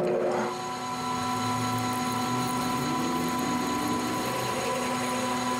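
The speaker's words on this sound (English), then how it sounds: "And center drill." Steady mechanical whirring of a lathe running a center drill into metal, with constant humming tones, a continuous machine drone throughout with no voices.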